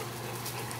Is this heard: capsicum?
no